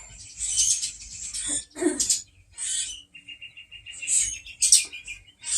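Several birds chirping and tweeting outdoors on a spring day, with scattered bright calls and a run of rapid repeated notes, fairly close and clear over a quiet background.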